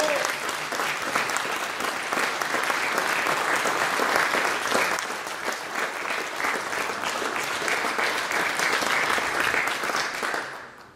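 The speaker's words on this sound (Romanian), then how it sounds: "Vă rugăm să o aplaudați!" Audience applauding a military band, the Representative Orchestra of the Romanian Ministry of National Defence, at a contest concert: steady, dense clapping from a large crowd for about ten seconds, ending abruptly.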